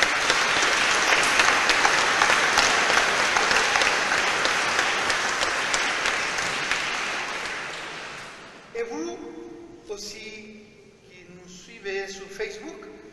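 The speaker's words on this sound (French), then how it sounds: "Vous pouvez applaudir le Seigneur." A mass congregation applauds during a Mass of welcome and installation for a new priest, the dense clapping sustained for several seconds before dying away as a voice begins speaking.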